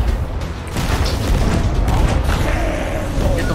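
Ship cannons in the Sea of Thieves video game boom in a dense, continuous barrage of heavy low blasts, loud and close throughout.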